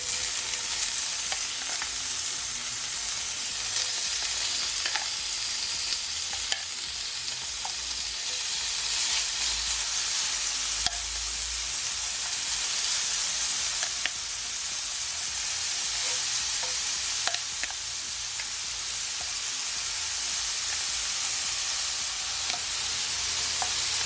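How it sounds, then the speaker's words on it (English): Bacon sizzles and crackles steadily in a pot heated on a stove at medium-high, a dense continuous fry with scattered pops. It runs for the whole stretch and nobody speaks. "So now that my pot is all heated up, I'm gonna add my bacon"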